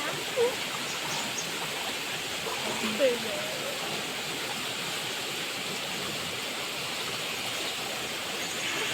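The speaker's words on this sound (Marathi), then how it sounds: "आणि जरा असं थंडगार याला भरला की पाणी येतं एकदम थंडगार" Cold water pours and flows in a steady, soft rush near a paddy field during rice harvest, a continuous broadband wash with no breaks and a couple of faint clicks early on.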